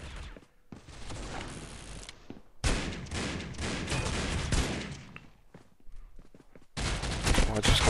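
Gunfire in the mobile shooter Critical Ops comes in loud, dense volleys of rapid shots, split by short quiet gaps into three or four separate bursts.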